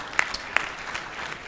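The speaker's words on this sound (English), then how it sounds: "You clap your hand, Ya Jama." Sparse, scattered hand clapping from a comedy show audience in South Sudan, a few distinct claps standing out over a thin, faint patter that never builds into full applause.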